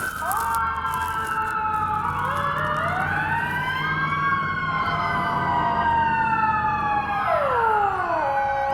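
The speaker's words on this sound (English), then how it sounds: "it's like the fire brigade's going through. That's a bastard siren, isn't it?" A fire engine siren wails repeatedly as it passes in the street, loud and close, its tones rising and falling in overlapping sweeps over a low traffic rumble.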